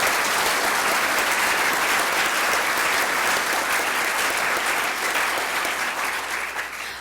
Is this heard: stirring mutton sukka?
no